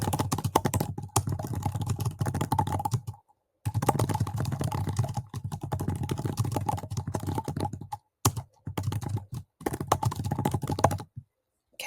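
Rapid, close typing on a computer keyboard while a prompt is entered, with bursts of dense key clicks broken by brief pauses and no voices.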